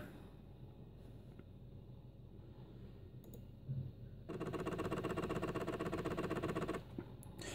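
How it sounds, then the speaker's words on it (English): Floppy drive of a Compaq LTE 5280 laptop running, starting with faint clicks and then a loud, rapid buzzing chatter like a tractor engine for a few seconds before it stops. "Lol at the floppy drive sounding like a diesel tractor."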